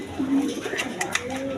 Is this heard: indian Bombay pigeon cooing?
yes